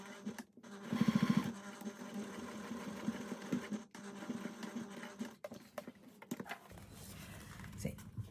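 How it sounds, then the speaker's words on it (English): A sewing machine stitches a cotton wallet close to its edge, with a burst of fast, steady needle chatter near the start and quieter intermittent runs and handling noises after it. "now you're going to sew right along this close to the edge, 1/8 of an inch"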